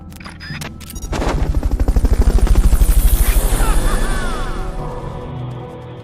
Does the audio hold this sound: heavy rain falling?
no